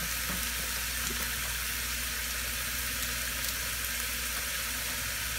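Sausages frying in a pan give off a steady, even sizzling hiss that holds for the whole stretch, with no voices over it.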